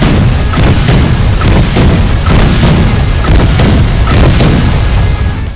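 Rapid, heavy booms pound repeatedly in a dense, loud barrage of explosions in the video game Rise of the Triad, continuing throughout without pause.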